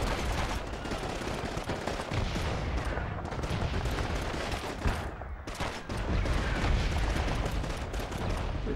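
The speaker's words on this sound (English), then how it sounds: "Explosions really do not help." Constant rumbling blasts and rapid gunfire fill the space without a break, a dense, loud battle din of explosions and shots in the video game Call of Duty 2: Big Red One on PS2.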